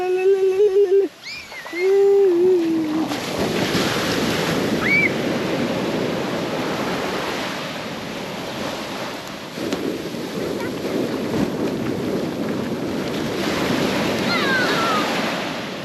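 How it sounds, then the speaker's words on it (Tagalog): Strong ocean waves crash and roar continuously on a beach, close and loud with a rumbling wash, while a few brief voices and whistled tones sound at the start. "Lakas lang alon."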